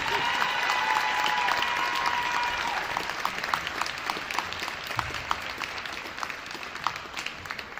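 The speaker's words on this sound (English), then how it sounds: "Ladies and gentlemen, a round of applause for our senior girl basketball players" A gym crowd at a high school girls basketball game applauds senior players: dense clapping that starts loud and full, then thins to scattered, distinct claps that gradually fade.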